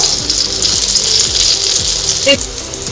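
Potatoes and taro frying in oil until reddish-brown, a close, steady sizzle with a few soft rhythmic scrapes and a brief clink near the end.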